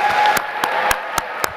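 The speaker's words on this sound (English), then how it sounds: "So, can they get some applause, please?" Applause and cheering from graduates' families at the Duke Pratt School of Engineering 2018 commencement, a steady crowd wash with a few sharp individual claps standing out over a short stretch.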